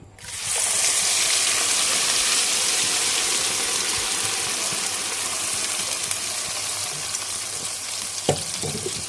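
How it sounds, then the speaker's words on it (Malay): Blended spice paste sautéing in about a cup of hot oil for chicken sambal tumis, a loud, steady, close sizzle that holds for several seconds with a small clatter near the end. "Bila dah panas, kita tumis bahan-bahan yang kita kisar tadi ya."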